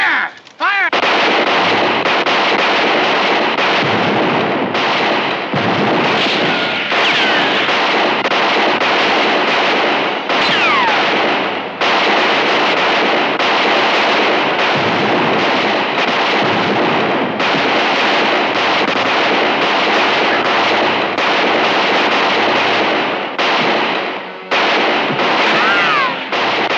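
Old Western shootout with pistols and rifles firing, dense loud gunshots and reports overlapping almost continuously throughout, with brief gaps and occasional shouting.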